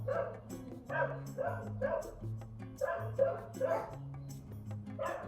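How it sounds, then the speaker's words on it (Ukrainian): A dog barks repeatedly in short uneven bursts, fairly close, with some yipping and whining, while someone talks over it. "Чому ти почала гавкати тільки тоді, коли я почала знімати відео?"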